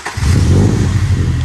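Car engine in an EK Honda Civic hatch project build turning over and catching, a loud low rumble that swells quickly and then settles into a steady idle, with no talking over it.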